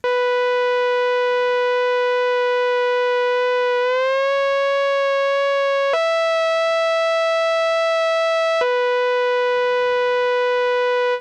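A bright synth lead holds a steady tone, glides smoothly upward, jumps higher, then drops back down; one continuous sustained sound with no voices.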